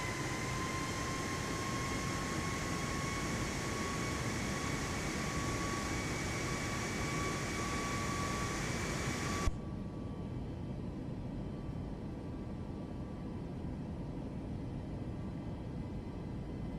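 An aircraft flies over Table Mountain in Microsoft Flight Simulator 2024, a steady broadband engine roar with a high whine that abruptly drops to a duller, quieter drone partway through, no voices.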